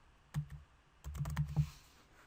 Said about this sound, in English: So again, I'm just typing in there.